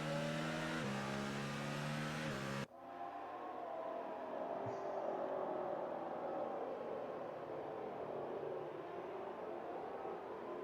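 Race cars in F1 2019 rolling off on a formation lap, a steady broad engine drone with a faint whine that follows a burst of music, continuous and fairly distant.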